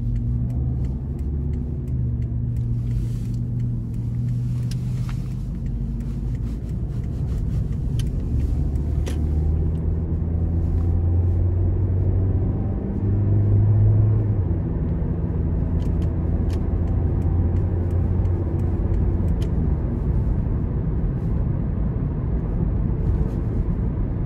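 A 2010 Toyota Corolla LE with about 105,000 miles, engine accelerating from inside the cabin, a steady low drone with rising tonal pitch under road rumble, no talking.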